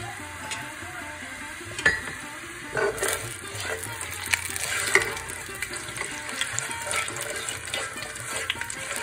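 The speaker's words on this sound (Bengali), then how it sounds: "এখন আমি ফোড়নটা দিয়ে দিচ্ছি। ফোড়ন হচ্ছে সর্ষে, তারপরে মেথি আর একটু রাঁধুনি।" Mustard, fenugreek and radhuni seeds hit hot oil in a pan for a Bengali shukto tempering, giving a steady crackling sizzle with scattered sharp pops and small spits throughout, with no voices.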